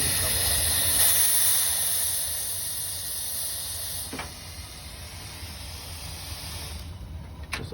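Steam escaping from a steam locomotive cylinder on the Paradise & Pacific Railroad, a loud continuous hiss that eases off after a couple of seconds and then carries on more quietly, with a few faint clanks near the end.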